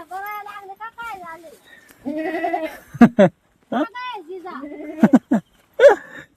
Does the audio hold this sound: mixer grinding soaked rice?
no